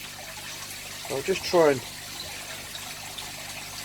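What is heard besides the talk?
koi fish splashing in water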